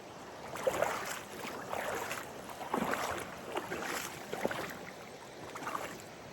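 Water rushes through a lake's spillway in a broad, steady roar that swells and eases in gusty surges, heard from a moderate distance with no one speaking.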